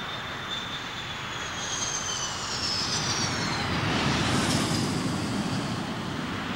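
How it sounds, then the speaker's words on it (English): The Pratt & Whitney F-100 turbofan engines of an F-15 Eagle run up toward take-off thrust, a loud, continuous roar with a rising whine that builds and holds without any voices. "the massive Pratt & Whitney F-100 turbofan engines, part of the secret of the Eagle's phenomenal performance,"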